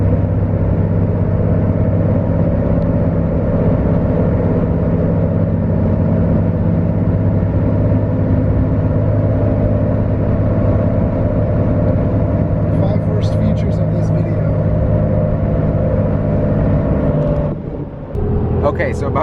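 Steady low engine drone and tire hum from a lifted Cummins diesel pickup truck on 37-inch mud tires cruising down a highway, heard from inside the cab as a constant, even rumble that drops away briefly near the end.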